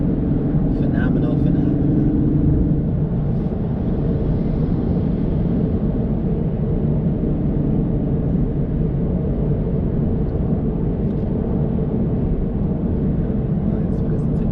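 Inside a 2021 BMW 330i being driven, a loud, steady drone of engine and road noise fills the cabin without a break from start to finish.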